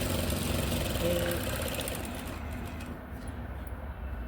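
A sewing machine stitching fabric seams to form a box shape, giving a continuous close mechanical hum and rattle that fades slightly toward the end.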